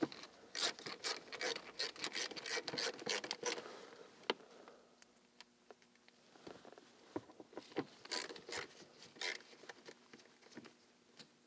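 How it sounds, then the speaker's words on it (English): Screws are run back into a Subaru shifter assembly: a long close run of quick, crisp clicks and ticks, dense at first and then sparser, with light handling noise between them. "run all our screws back in there"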